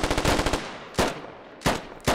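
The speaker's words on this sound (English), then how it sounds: "Takes a few shots at" Gunfire in the video game Squad, a rapid close burst of automatic fire followed by three separate loud single shots spaced roughly two-thirds of a second apart, with no talking.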